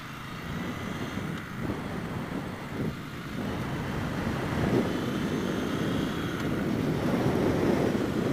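A Triumph Speedmaster cruiser motorcycle rolls along at a mellow pace, its engine a steady low rumble mixed with rushing wind that gradually swells, continuous and close with no talk.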